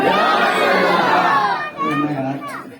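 Crowd at a religious gathering shouting back in unison after the Nara-e-Takbeer slogan, a loud massed chant that swells and then breaks into scattered voices.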